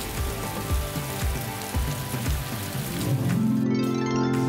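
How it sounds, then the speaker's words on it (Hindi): Rain falls in an animated story scene, a dense patter of drops over a busy, tonal music-like background, rising into a steadier hiss toward the end. "और जब ये दोनों एलिमेंट्स मिले तो बारिश शुरू हो गई।"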